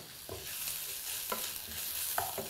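Onions sizzle and fry in a pan while a utensil stirs them in a few scraping strokes, with steady close sizzling and no talk.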